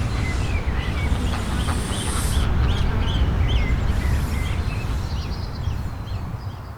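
Families of geese with goslings give repeated honking calls outdoors in spring, moderately distant, under a constant rumbling wind or traffic-like background.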